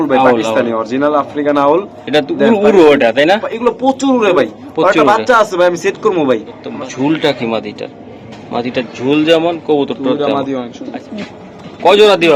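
Pigeons for sale at a market coo in soft repeated calls, mixed in with loud, continuous talking by people nearby.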